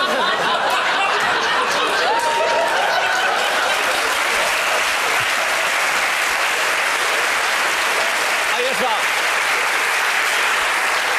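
A television studio audience applauds loudly and continuously, with scattered laughter and chatter mixed into the dense clapping throughout.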